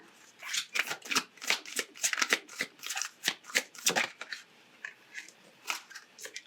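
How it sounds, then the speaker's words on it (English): Oracle cards being shuffled by hand during a tarot reading, a close, papery riffle of rapid flicks and slides repeating steadily over several seconds. "Let's pull a couple of oracle cards, see if there's anything they would like to add."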